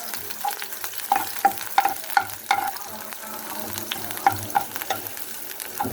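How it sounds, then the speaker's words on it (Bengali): Chopped onions and green chillies fry in oil in a home kitchen pan, a steady soft sizzle broken by repeated scraping of a spatula stirring them, with no talk. "পেঁয়াজটা আমি ভালোভাবে ভেজে নিব বাদামি রং করে।"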